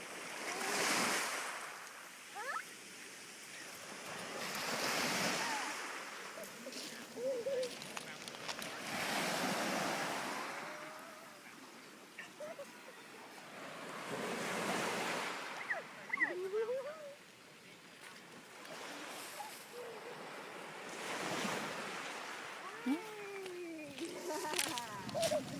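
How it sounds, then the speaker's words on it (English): Ocean waves break on a beach in slow, rhythmic surges every few seconds, each swelling and washing out, with wind buffeting the microphone and faint voices now and then. "Jump the waves."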